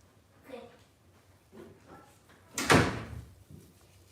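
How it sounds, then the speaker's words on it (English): A room door closes with one firm thud and rattle, louder than the quieter shuffling and handling noises around it, while people talk indoors. "Close my door, please."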